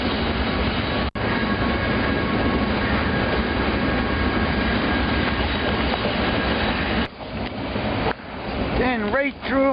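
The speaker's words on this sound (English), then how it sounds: "The darkest hours of the night, train blazes through my old college town." A freight train blazes through a small college town in the dead of night, its steady rumble and rail clatter filling most of the stretch before easing into a few squealing wheel tones near the end.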